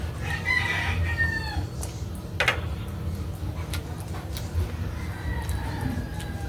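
Chickens cluck and a rooster crows nearby, with scattered clucks over a low background hum.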